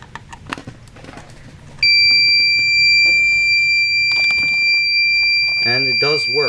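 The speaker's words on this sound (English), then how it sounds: "That's the water alarm," A Basement Watchdog Pro Series 1730 sump pump water alarm switches on and holds a loud, steady high-pitched electronic tone for several seconds, sounding alone after some brief handling noises.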